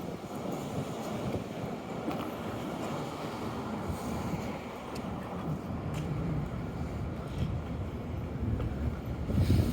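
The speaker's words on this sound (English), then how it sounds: "Today's a little breezy, but" Wind blowing outdoors while walking downtown on a breezy spring day, a steady, loud rumbling buffet of wind noise filling the whole stretch with no talking.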